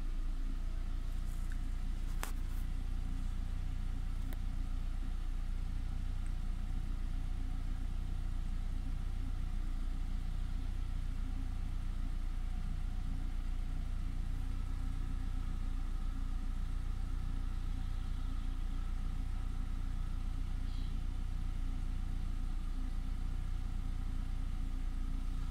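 Cold 1.6-litre petrol MPI engine of a 2000 Volkswagen Passat B5 sedan idling, a steady low hum held evenly throughout with no revving and no voices.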